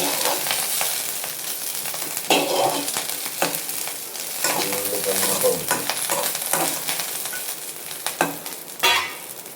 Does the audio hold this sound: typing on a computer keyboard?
no